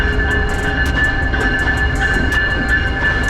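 Steady rumble of an Amtrak train running, heard from inside a business class car, with a constant low roar, a sustained whining tone and faint rhythmic rattles of the carriage, no talking.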